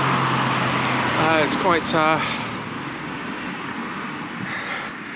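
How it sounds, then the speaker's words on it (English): Road traffic rumbles beside Colchester's Roman wall, a continuous low wash of passing vehicles under a voice as he speaks briefly, continuing after he stops. "even though we've got the noise of the traffic"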